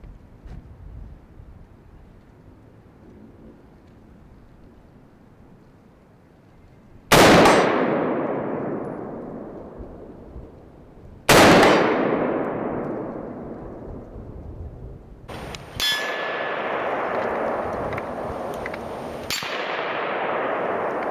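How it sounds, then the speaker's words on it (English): An AR-15 rifle fires several sharp, loud shots spaced a few seconds apart, each followed by a ringing clang from a steel target downrange, against a quiet outdoor backdrop. "I'm going to take a few shots with this"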